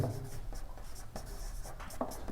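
Chalk or marker taps and scratches on a board during a maths class on differential equations, a run of short, close strokes and dabs in uneven rhythm over a faint steady background, without talking.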